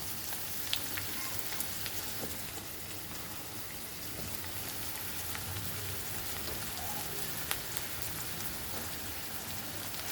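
Chopped onions fry in a pan over a medium flame, giving a steady, even sizzle and crackle with a few sharper pops, fairly close and unbroken, no voices over it.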